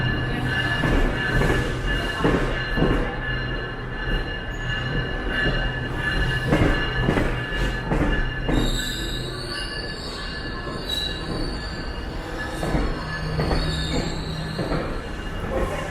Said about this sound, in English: These trains can be incredibly long.